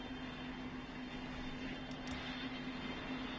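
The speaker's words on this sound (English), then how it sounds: "in my wonderful 767, and I figured before I took off, you guys would like to hear the new engine sounds" Boeing 767 jet engines in the Roblox flight game PTFS run at a steady idle before takeoff, a continuous airy roar with a sustained drone, heard alone without talk.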